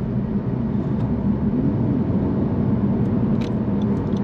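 A Honda Civic Type R GT, front-wheel drive, accelerates in sport mode on open road, its engine giving a loud, steady rumble close by throughout with no talking.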